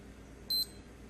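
A Puma black digital watch (PU910801005) gives one short, clear electronic beep as its timer starts, lone and crisp against quiet room noise.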